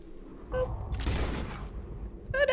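Gunfire in the Red Dead Redemption 2 video game: a burst of close, rapid shots with a booming rumble, bracketed by short in-game tones at the start and end.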